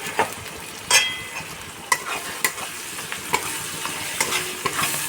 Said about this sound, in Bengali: দেখো হালকা আমি ভেজে নিচ্ছি।